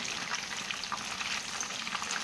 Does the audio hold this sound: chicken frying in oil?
yes